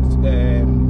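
A loud, deep exhaust drone from a nearby big-turbo Mercedes-AMG A45 with no back box fitted, steady and rumbling throughout the short moment.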